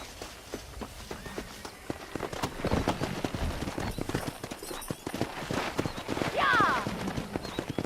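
Wild horses gallop in the Red Dead Redemption video game, their hooves pounding in quick, uneven clip-clop bursts alongside rustling movement, with a brief whinny partway through.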